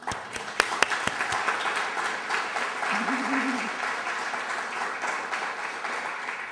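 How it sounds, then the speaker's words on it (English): An audience at a talk bursts into applause for a volunteer, starting with a few sharp individual claps before swelling into steady crowd clapping, with a brief voice calling out partway through. "So how about a hand for Nappy?"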